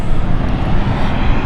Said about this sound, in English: the initial startup of the Dash 8